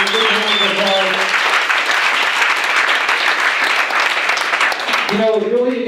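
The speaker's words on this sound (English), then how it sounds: "Good round of applause." Loud, sustained clapping from an audience fills the room, with a speaker's voice briefly heard over it at the start and end.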